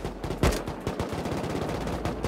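Rapid automatic gunfire in a multiplayer shooter game, with dense, steady bursts of shots and one louder blast near the start.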